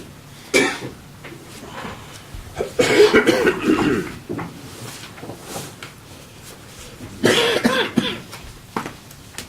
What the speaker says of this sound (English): We're all coughing today.